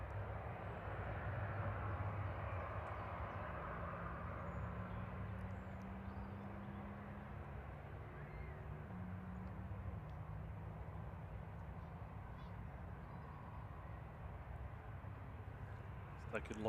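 An ATR turboprop airliner departing Manchester Airport, a steady distant engine roar and rumble that holds evenly throughout, with faint voices talking in the background.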